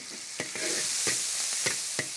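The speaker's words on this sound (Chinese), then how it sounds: "炒调料、葱姜蒜儿、豆瓣酱，给它炒出红油来。" Steady sizzling of spices, scallion, ginger, garlic and chili bean paste frying in oil in a wok, broken by several sharp scraping clicks of a spatula stirring, close and moderately loud.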